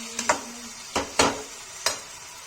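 A spatula scrapes through potatoes and peas frying in a pan for a Kashmiri mixed vegetable dish, with a few brief stirring scrapes over a faint sizzle, close and fairly quiet.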